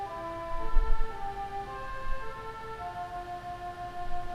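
Sustained pipe organ chord of thin string stops combined with a celeste, giving a gentle wavering shimmer, steady and moderately soft throughout.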